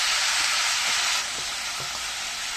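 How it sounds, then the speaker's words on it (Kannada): Chopped spinach greens hit a hot pan and fry with a loud steady hiss, easing slightly partway through, with a few soft knocks underneath. "ಸೊ ಸೊಪ್ಪು ಆ್ಯಡ್ ಮಾಡ್ತಾಯಿದ್ದೀನಿ."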